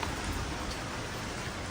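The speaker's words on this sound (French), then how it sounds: "Il pleut." Steady rain falls in Kyoto, a dense, even hiss of drops spread across the whole stretch without a break, close and continuous, with no voices.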